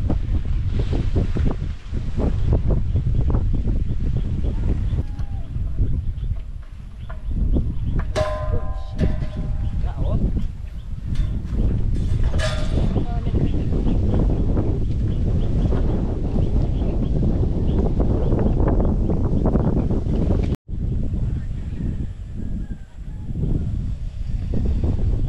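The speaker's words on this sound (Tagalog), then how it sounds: "lumakas yung hangin" Strong wind blasts across the microphone in heavy, continuous roaring gusts outdoors, with faint talk and brief clanking of equipment underneath.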